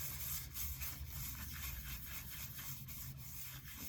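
Steady dry hand rubbing of cloth over dried polish on a wood-turned piece, a continuous soft swishing texture with faint periodic strokes and a low hum underneath, no talking.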